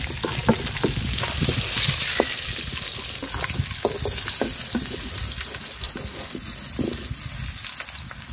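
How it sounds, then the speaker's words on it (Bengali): Pieces of big silver carp fry crisp in hot oil, with a dense, continuous crackling sizzle close up and occasional clicks of a utensil moving them; no voices. "কড়া করে মাছ ভাজা নিচ্ছি"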